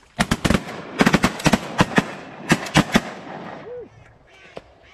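Shotgun blasts crack out during a duck and goose hunt, a rapid volley of about a dozen sharp, loud reports over three seconds that then fade to quiet, with a duck call and a brief voice following.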